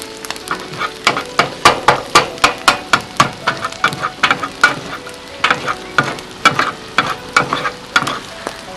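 Hibachi-style stir fry on a Blackstone griddle outdoors, with metal spatulas rapidly clacking and scraping against the flat top in a steady rhythm over continuous loud sizzling, close and without talk.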